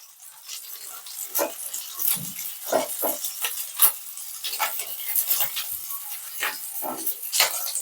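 Fish fritters sizzle in a pan while a metal spatula scrapes and taps against it in irregular strokes, close up, with no talking.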